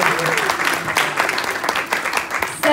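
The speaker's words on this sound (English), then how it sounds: "Come on, that deserves a round of applause." Applause from an audience at the Pride of Formby Awards 2019 ceremony, a steady dense patter of clapping filling the room for a few seconds with some crowd noise mixed in.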